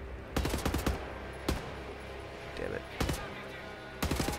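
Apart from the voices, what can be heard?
gunshots in the video game Wolfenstein: The New Order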